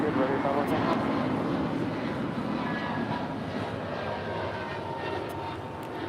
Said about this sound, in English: American 582 departing to Philly on a 1-year-old A321neo